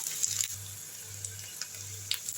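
Onions sautéing on a low flame for a white chickpea curry, a quiet, soft sizzle with a few faint taps and scrapes from the pan.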